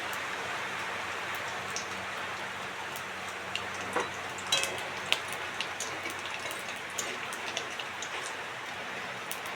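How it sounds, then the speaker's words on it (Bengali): Cumin seeds sizzle in hot oil with a steady, soft, rain-like crackle and a scattering of tiny pops throughout, with no voices. "ওইটা তেল গরম হয়ে গেছে, এখন খালি জিরা ফোড়ন দিলাইছি।"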